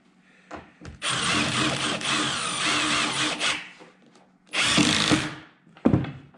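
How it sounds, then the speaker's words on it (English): Power drill driving screws into an insulation baffle at a truss heel, loud close whirring bursts: one long run of several seconds, a short pause, then a second burst and a brief final blip. "I've been putting 3 screws in there. Put one in the center."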